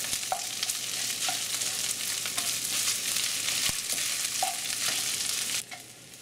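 Filipino longganisa fried rice cooking in oil and butter, a continuous close sizzle with crackles and periodic spatula taps against the pan, fading abruptly at the end.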